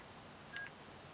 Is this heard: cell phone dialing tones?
yes